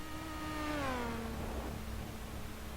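A race car engine idles on pit road with a steady, moderately loud drone whose pitch sags smoothly downward before settling into an even hum.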